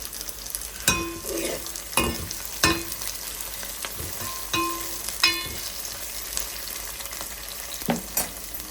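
Cumin seeds frying in hot oil in a pan while making a spinach mutton curry, a steady close sizzle broken by repeated sharp clinks and scrapes of a utensil at irregular intervals, no talk.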